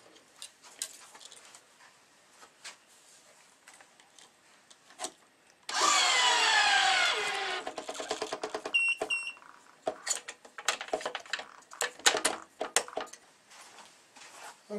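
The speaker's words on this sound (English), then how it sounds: "I just tensioned this string right here" A racket string is tensioned on a stringing machine, with a sharp grinding burst of the tensioner at close range amid scattered clicks, taps and rubbing of the string and clamps.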